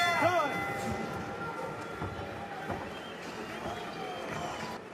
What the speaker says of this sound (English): 10 seconds, up at the bell. Listen for that bell.